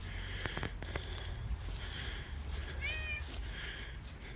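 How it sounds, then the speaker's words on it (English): A cat gives a short meow, near and moderately loud, outside a church in Dagenham, over quiet outdoor background noise with a few soft thumps. "Hello, it's a cat."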